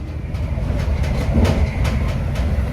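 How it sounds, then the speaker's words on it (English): A passenger train runs on the West Coast Main Line, heard from inside the carriage: a loud, steady rumble with a regular clickety-clack of wheels over rail joints. No one speaks. "I'm on the train home now"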